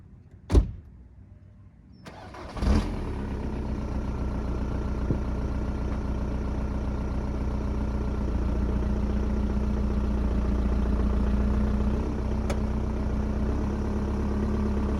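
A Volkswagen Jetta TDI diesel is started: a door thud and a short crank catch at about two seconds, then the engine settles into a steady, rumbling idle that carries on alone for the rest of the clip.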